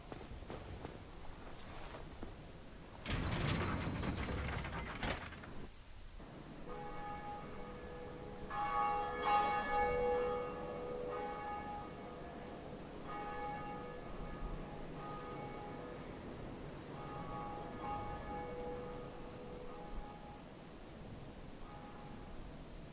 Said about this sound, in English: they are in fact guarding the bell tower, which will be the first Bell of Awakening